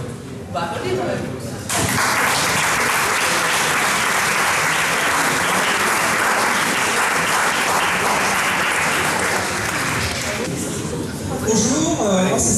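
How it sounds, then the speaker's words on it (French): An audience applauds a fencer, an Olympic silver medallist, at a French sports event, a dense, loud wash of clapping that swells in after a brief spoken lead-in and holds steady before a voice returns near the end. "On va applaudir quand même."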